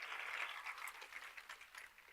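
Audience clapping at a Women in Product conference, a steady broadband patter of many hands that holds fairly even and then thins slightly toward the end, heard alone without talk.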